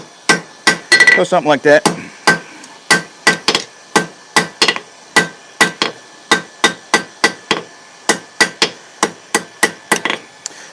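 Hammer blows ring out on hot steel at an anvil while a puppy dog bottle opener is forged, striking in a steady rhythm of about two per second after a quick flurry early on, with a short spoken remark.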